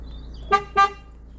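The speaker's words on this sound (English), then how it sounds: "I love the horns on the Punto, very Italian." Fiat Punto Mk2 car horn giving two short honks in quick succession, loud and close, with quiet background between the toots.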